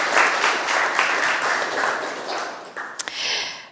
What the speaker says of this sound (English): So an applause.